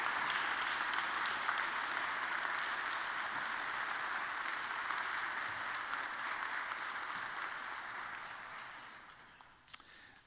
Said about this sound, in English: give a round of applause for these wonderful confirmation students